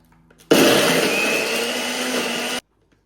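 An electric spice grinder whirs loudly as it grinds organic paprika, a steady high-pitched motor roar lasting about two seconds with an abrupt start and stop, close and alone.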